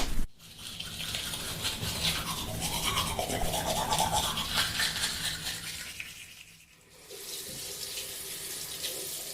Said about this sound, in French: Je finis de me laver les dents.